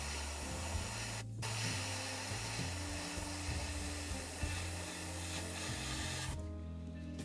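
An airbrush run off a good compressor at raised pressure hisses steadily while laying down paint lines on a diner model, a continuous close spray with brief breaks in the flow.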